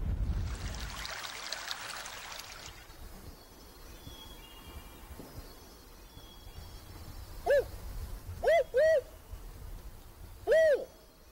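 A spotted owl in an Oregon forest answers with several distinct hoots, a single call followed by a quick pair and then another, moderately near over a soft trickling stream, after a brief rustle at the start.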